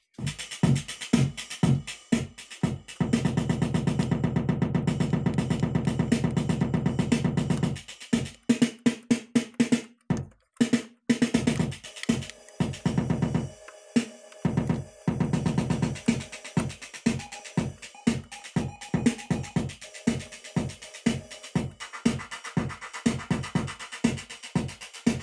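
The EasyEi8ht trigger sequencer prototype drives a loud electronic pattern of rapid, rhythmic drum triggers and synth tones, with sustained droning passages that break into choppy stuttering hits as steps stop and restart.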